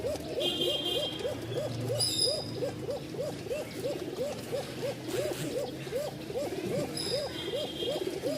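A Rajshahi Giribaz pigeon coos steadily in a thin, fast, repeating rhythm, the same call cycling over and over against faint outdoor background noise.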